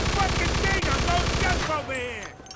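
Rapid automatic gunfire in the Mafia II video game, a fast loud burst of shots that stops partway through, leaving echoing ring-out, whistling tones and a voice shouting over it.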